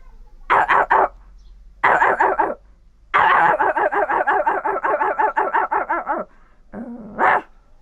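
A person's voice imitates a bulldog barking, giving a few short bursts followed by a long run of rapid, rhythmic barks and a final yip, loud and close with no other speech.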